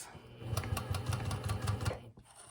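A sewing machine runs steadily, stitching around the edge of a homemade fabric face mask in a rapid, even mechanical chatter that stops abruptly near the end.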